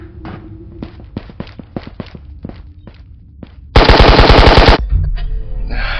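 Gunfire in the VR game Ghost of Tabor: a string of separate sharp shots, then a dense, loud burst of rapid automatic fire lasting about a second, close and with no voices over it.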